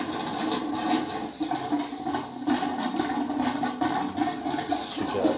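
Dirty water rushes and gushes steadily out while a radiator is flushed with a cleaning machine, a loud continuous turbulent flow with no talk.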